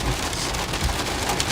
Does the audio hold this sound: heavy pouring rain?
yes